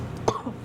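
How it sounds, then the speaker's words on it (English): A single short, throaty cough, close by, against a quiet room background. "Still coughing."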